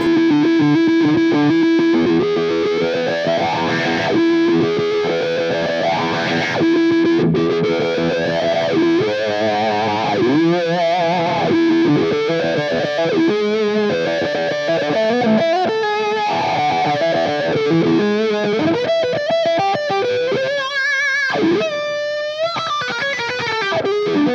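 A distorted electric guitar plays a busy rhythm riff through a Friedman Gold 72 wah pedal set to its first position, loud and continuous with chugging, sliding figures and no talking.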